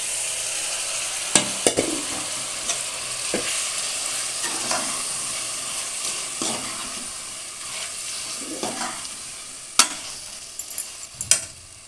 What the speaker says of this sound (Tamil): மட்டனை ஆட் பண்ணிக்கோங்க.